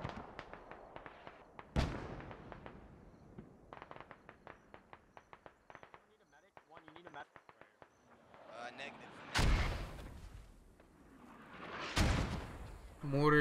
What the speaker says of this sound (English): Mortars getting closer and closer, and ending up further and further away somehow.